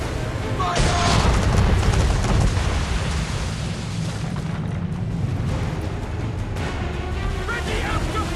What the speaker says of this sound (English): Man of war, broadside! Fire!